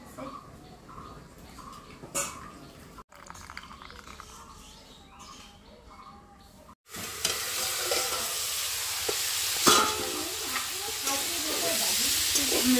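Vegetables cook in a pan in a village home kitchen, a steady sizzle and stir with steamy hiss that grows louder and broader midway, with occasional clinks and a faint bird in the background.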